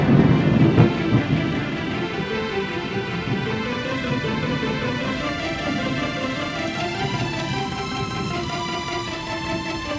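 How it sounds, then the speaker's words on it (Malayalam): A thunderstorm opens with a heavy rumble of thunder, then settles into a steady wash of rain beneath sustained musical tones in an animated children's story. "അയ്യോ, മഴ വരുന്നു."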